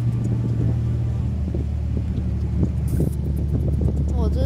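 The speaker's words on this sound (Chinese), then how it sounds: "我这船的声音也是颇大声的" A boat engine rumbles low and steady at night beside the Dafu fishing harbour on Xiaoliuqiu, with wind buffeting the microphone and people talking over it.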